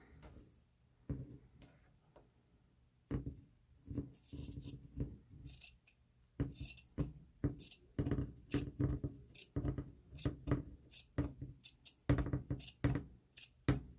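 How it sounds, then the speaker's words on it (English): Scissors snip through fabric in a series of irregular crunchy cuts, close and fairly quiet, with short pauses between strokes. "this big old fabric scissors, but I love it. It cuts pretty well"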